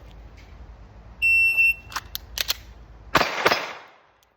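A Staccato CS pistol at practice, with a timer beep sounding first, then quick clicks as the slide is racked and a sharp report. It finishes with a burst of noise that fades out.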